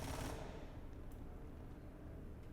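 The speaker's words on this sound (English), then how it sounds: "there were people shooting at them" A burst of rapid Star Citizen gunfire opens loud and dense in the first third of a second, then trails into a quiet, hissing background with faint distant pops.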